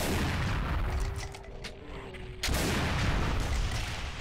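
Heavy, booming bursts of gunfire from the video game Doom crash through a noisy, dense mix, dipping briefly before resuming loud and continuous.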